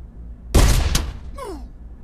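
A grenade detonates in the Pavlov VR shooter, a single loud close blast with a sharp crack and a rumbling tail, followed by a brief whooshing sweep as it fades.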